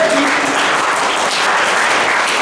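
Loud, dense applause from a lecture audience fills the full stretch, steady and sustained throughout with no talking over it.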